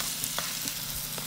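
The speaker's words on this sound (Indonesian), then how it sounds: "Aduk-aduk lagi" Tempe with sweet soy sauce and palm sugar sizzles steadily in a frying pan, with a few soft scraping strokes from stirring over the continuous hiss and no voices.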